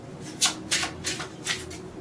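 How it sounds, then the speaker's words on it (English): Tarot cards being shuffled in four quick riffling bursts, crisp papery flutters spaced about a quarter second apart, close and fairly quiet. "let's try to make this shuffling short"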